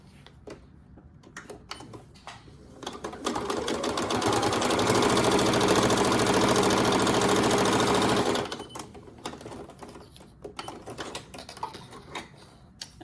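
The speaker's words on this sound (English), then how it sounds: "We'll sew across the bottom seam right here." A sewing machine stitches across the bottom seam of a reversible drawstring fabric bag, whirring loudly and steadily for about five seconds, with scattered handling taps before and after.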